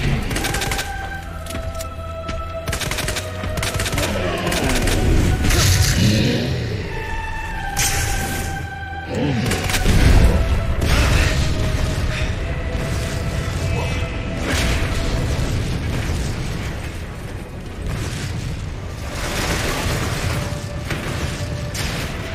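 Rockets from a quad launcher burst in Resident Evil 2 remake, a dense continuous barrage of loud booms, whooshes and mechanical clatter filling the whole stretch with hardly any break.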